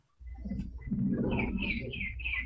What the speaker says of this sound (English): Oh, you guys hearing my birds?